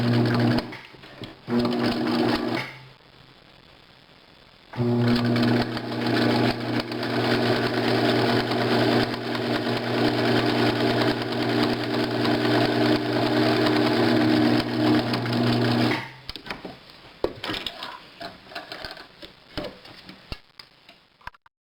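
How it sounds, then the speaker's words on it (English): A domestic sewing machine stitching the top seam of a cloth diaper pocket, running in a steady close hum for about ten seconds after shorter starts, with handling clicks at the end. "I'm going to flip this down and sew it along just to make the top seam for the pocket."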